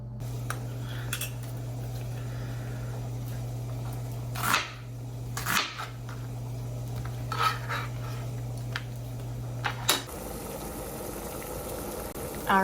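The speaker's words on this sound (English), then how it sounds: "our mixture's boiling" A food-prep mixture boils in a pot in a home kitchen, a steady low bubbling hum broken by a few clinks of utensils against cookware, with no one speaking.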